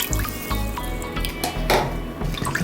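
Two cups of water are poured into an Instant Pot with apple cider vinegar for pork ribs, a close, splashing trickle with small drips, loud and continuous.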